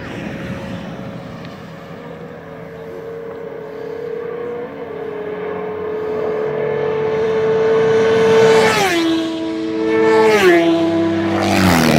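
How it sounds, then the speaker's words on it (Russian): Three motorcycles, a 2007 Honda Hornet 600, a 2004 Hornet 600 and a Suzuki SV650, race 1000 metres from a 40 km/h rolling start, engines droning steadily then revving higher with sharp gear-change dips near the end. "Итак, заезд Hornet 600 2007 года, Hornet 600 2004 года и Suzuki SV 650."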